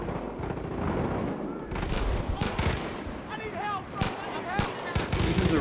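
Rapid gunfire from Far Cry 5 crackles throughout, with sharp shots and bursts stacking into a dense, loud firefight while a voice talks over it and occasional whistling tones cut through.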